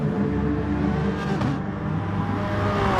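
Race car in a racing video game spinning its rear wheels after riding too much curb at a chicane, heard as a loud, steady engine roar and whine that runs unbroken, with no talking.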